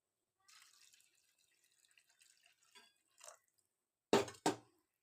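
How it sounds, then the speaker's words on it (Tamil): Water poured over mixed rice and lentils for Coimbatore-style paruppu sadam, a light trickle and drips near the mic followed by two brief louder splashes. "இப்போ தேவையான அளவு தண்ணி ஊற்றிக்கலாம்."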